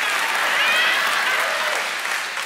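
An audience claps during a church sermon by Pastor Michael Todd, a sustained burst of crowd applause that swells slightly and then tapers toward the end.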